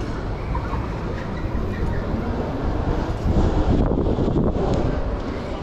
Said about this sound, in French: Je sais pas qu'il y avait autant de vent.